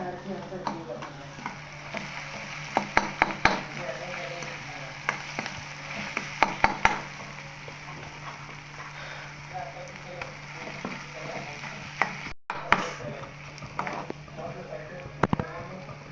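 Crushed green chili thecha and onion frying and being stirred in a pan, a steady soft sizzle with scattered clinks and scraping taps throughout, while a voice talks over it.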